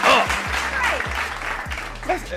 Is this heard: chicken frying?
no